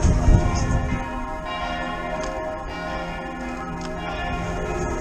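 Church bells in Helsingborg, Sweden ring out with sustained, overlapping tones, loud at first and then lingering as a steady ringing.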